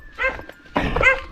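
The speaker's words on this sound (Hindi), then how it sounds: "यहाँ पे कुत्ता भी भौंक रहा है" A dog in a village lane barks twice, two short harmonic yelps separated by a brief pause, moderately loud and fairly close, with faint background noise.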